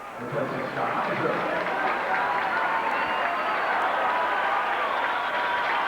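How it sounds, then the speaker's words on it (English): Steady crowd applause at a 1987 men's college basketball championship game fills the space, a dense wash of clapping that holds at an even level from start to finish. "Heiser getting a good round of applause for his performance on the boards."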